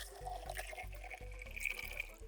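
Hot water is poured onto Artemisia powder in a measuring jar, giving a close, steady gurgling splash with rising and falling bubbling as the jar fills toward 1000 millilitres, with no speech.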